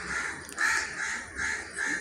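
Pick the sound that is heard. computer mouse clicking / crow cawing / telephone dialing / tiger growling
crow cawing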